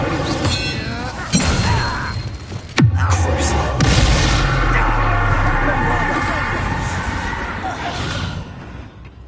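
Casting the Incendio fire spell in Hogwarts Legacy on PS5 sets off a sharp whooshing burst and a heavy boom, then crashing impacts and a long, loud roar that slowly fades.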